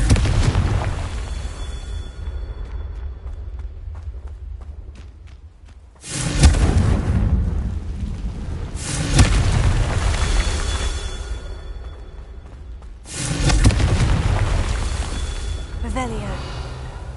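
Confringo fire spells blast in the Hogwarts Legacy video game: two loud booming explosions arrive several seconds apart, each with a rumbling tail, over game ambience and a voice.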